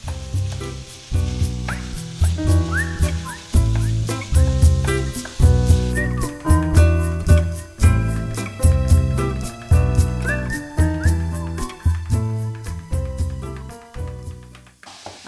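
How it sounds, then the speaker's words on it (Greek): Minced meat sizzles and spits in a hot pan alongside vegetables for bolognese sauce, a steady frying hiss beneath prominent rhythmic background music. "Αφήνουμε λίγο να τσιγαριστεί από τη μία μεριά"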